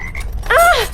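A single frog croak, used as a radio-drama sound effect, sounds loud and close: a short tone, then a brief rising-and-falling croaking call.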